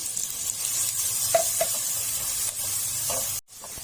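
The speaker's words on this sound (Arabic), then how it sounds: "هنضيف البصل المفروم ونديله تشويحة حلوة" Chopped onion sautéing in a pan with fragrant spices gives a constant close hiss of frying with a few soft stirring clicks and a brief drop near the end, no talking.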